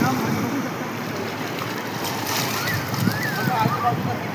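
Sea waves roll onto the beach in a loud, continuous rush with wind buffeting the microphone, and people talk underneath.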